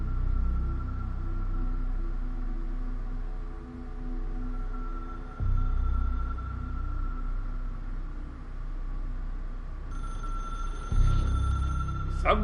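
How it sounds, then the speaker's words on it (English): In the video game Control, a telephone rings with a steady electronic tone that repeats in a few bursts over low rumbling ambience and hum. It is moderately loud and carries no speech. "Somebody better pick up that phone."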